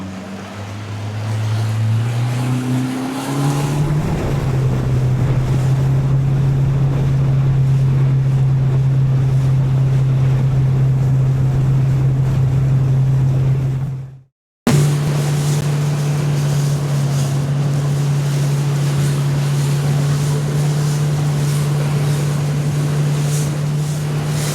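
A 12-foot AB Oceanus boat runs on open ocean chop with a steady outboard drone and constant wash of water and wind buffeting the microphone, loud and close, with one brief dropout midway.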